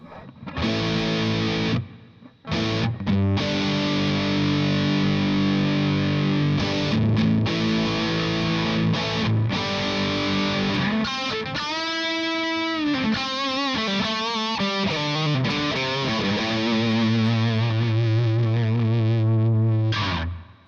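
Electric guitar through a heavy Marshall Plexi-style distortion pedal, sustained chords and a bending, wavering lead passage, loud and buzzy throughout with brief pauses.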